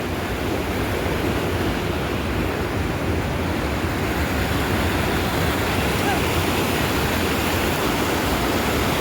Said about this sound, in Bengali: এখান দিয়ে থ্যামসের জল যাচ্ছে লন্ডন